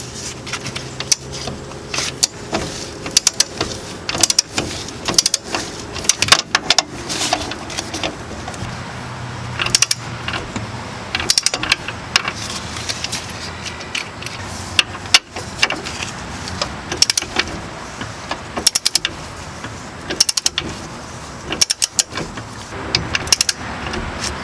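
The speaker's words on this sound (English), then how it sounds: "we have our torque wrench set to 61 foot-pounds" A torque wrench tightening a 19 mm upper ball joint nut to 61 foot-pounds on a car makes a series of irregular ratcheting clicks and metallic knocks, close and moderately loud, with no talk.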